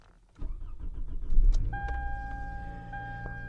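A Toyota Camry's engine cranks and catches after a short quiet start, settling into a steady idle with a tonal whine and faint keys or clicks nearby.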